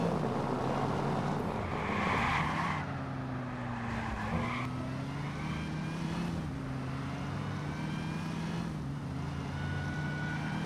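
A supercharged car engine in the video game Watch Dogs drones steadily, its pitch dipping and rising as the car shifts and accelerates, with a faint whine riding above the continuous exhaust note.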